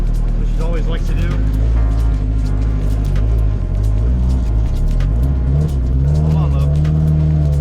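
Drift car engine idling with a deep, loud rumble close by, rising in pitch as it revs, while people talk over it.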